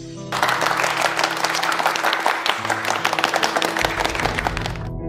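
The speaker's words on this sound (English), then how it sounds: "let's give the most enthusiastic applause" Loud, sustained applause from a large audience, dense clapping filling the space with a few cheers, continuing steadily for several seconds.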